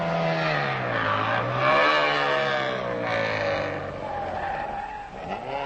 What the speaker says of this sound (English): Weitzer in another Czech Skoda